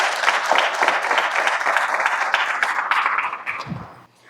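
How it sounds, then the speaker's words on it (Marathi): Loud, sustained audience applause at a birth-anniversary tribute to Mahatma Jyotiba Phule, dense clapping from a crowd that holds steady before fading out near the end. "मग एकदा जोरात टाळ्या होत्या."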